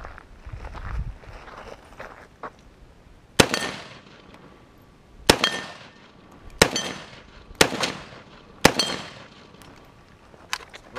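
An AK-47 rifle fed from an Xtech magazine fires several single rounds at irregular intervals, each a sharp loud crack with a short echoing tail, with quieter rustling between shots.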